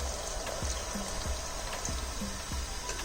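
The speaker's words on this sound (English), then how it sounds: "Now add in a little water." Water added to a simmering pan of tomato and paneer curry, heard as a faint, steady pour and trickle with soft drips spaced through it, quiet and with no talk over it.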